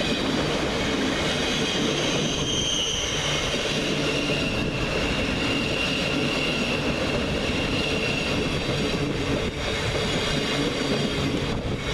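Thameslink Class 700 electric train 700-113 terminating at Peterborough station platform, rolling close by with steady rail rumble, rhythmic wheel clatter and faint squealing, continuous for the whole stretch.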